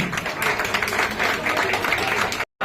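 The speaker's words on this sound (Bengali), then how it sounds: "আপনারা সকলে করতালির মাধ্যমে সম্মানিত করুন" An audience claps at the inauguration of a newly built boardroom in Tamluk, a continuous wash of applause from many hands filling the room before it cuts off abruptly near the end.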